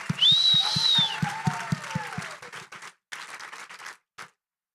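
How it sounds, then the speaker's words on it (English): Applause from a gala auction audience right after a $10,000 bid, broad clapping with a few whoops, loud at first, then thinning into scattered claps and fading out near the end. "Give that man a round of applause."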